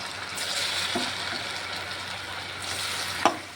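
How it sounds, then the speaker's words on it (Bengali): Fulori batter dropped into hot oil for a Mohini Ekadashi recipe, giving a steady close hiss and sizzle that swells as the batter goes in, with a small clink near the end. "এখন এখানে তেলের মধ্যে ছেড়ে দিচ্ছি তেলটা ভালো করে গরম করে"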